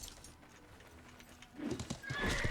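A horse in the medieval MMO Life is Feudal: hooves clop quietly at first, then a close, loud whinny rises near the end, with no voices.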